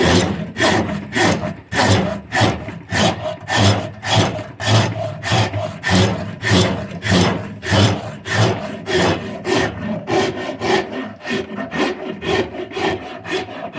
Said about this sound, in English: I can come in and work my rasp this way because I'm still going in to the center of my limb